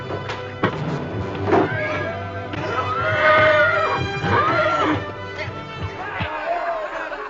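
Horse in a 1950s Western neighs loudly and close, a long shaky whinny rising and falling over several seconds, with hoof clatter and film score in the background.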